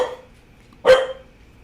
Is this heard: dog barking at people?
yes